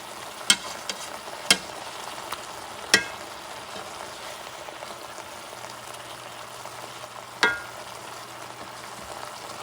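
Bison liver frying in a pan with onions, a steady soft sizzle with a few sharp scrapes and clacks of a utensil stirring or flipping, heard close with no talking.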